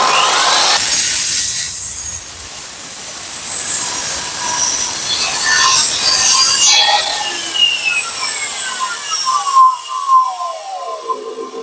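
A power saw cuts through wood clamped for building a small A-frame pet cabin, a loud sustained grinding rasp that changes pitch toward the end and briefly kicks back before stopping.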